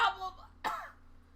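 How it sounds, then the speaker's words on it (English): Two harsh, close coughs from a person, the first longer and raspy, the second a short sharp bark, followed by quiet. "You ever cough in such a way you just crack the middle of your rib cage"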